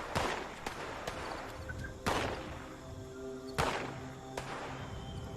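Sharp gunshots from the video game Fallout 76 crack at irregular intervals, a few louder bursts among fainter pops, with a quiet ambient hum between shots.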